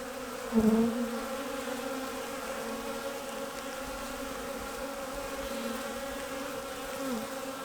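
A honey bee swarm gives a steady, dense buzzing hum with a brief louder pass near the start, heard close by and without talk.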